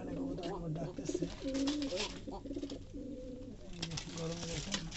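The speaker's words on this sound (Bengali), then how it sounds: "কবুতর আমার ডাকতেছে।" Pigeons in a small loft farm, nesting on eggs, give low, repeated rolling coos at close range, overlapping one another, with a person talking over them at times.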